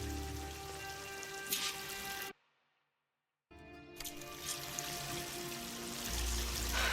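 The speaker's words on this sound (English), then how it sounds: "That waterfall must be coming from somewhere." A waterfall in the video game Horizon Forbidden West roars as a broad, steady rush of falling water, cut off briefly by a short silence and then returning at the same full, even level.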